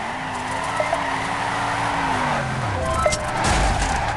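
Tires squeal and skid continuously as a car spins a donut in the Torque Burnout game, with a rising and falling engine drone under the screech and a heavier low rumble near the end.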